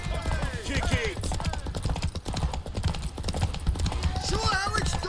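Horse hooves clip-clop steadily at a gallop during a horse race in The Witcher 3: Wild Hunt, a dense rhythmic pounding mixed with game music and voices talking over it.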